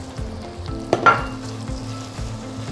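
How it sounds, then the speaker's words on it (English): Chopped ginger sautés in a pan for a shrimp garlic curry, a steady close sizzle with stirring scrapes and a brief clatter of a utensil midway, no voices. "We'll saute the ginger at the same time."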